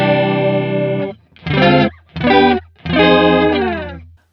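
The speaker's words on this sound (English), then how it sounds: "So this is what it sounds like. Both detune controls set for 0." BOSS PS-3 digital pitch shifter pedal with both detune controls set to 0, giving a guitar a thick, wobbling chorused tone over one long sustained note and three more strummed bursts, loud and alone.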